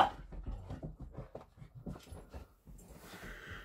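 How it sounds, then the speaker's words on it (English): Dogs whimpering and panting nearby, quiet snuffling whines and breaths in short irregular bursts, fairly faint with no talk over them. "Dogs!"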